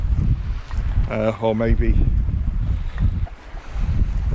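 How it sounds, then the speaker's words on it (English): Strong wind buffets across an open lake in the Lake District, a loud gusty rumble battering the microphone, with someone talking briefly over it. "it is windy and there's a lot of movement in the water"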